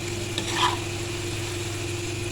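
Masala French fries bubble in hot oil with a continuous close sizzle. A soft stir or scrape comes near the start.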